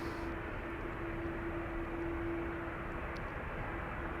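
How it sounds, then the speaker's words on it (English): A KLM jet departing for Düsseldorf gives a steady, moderately distant engine rumble with a constant whine, unbroken and free of voices. "this is KLM Flight 1799 to Düsseldorf"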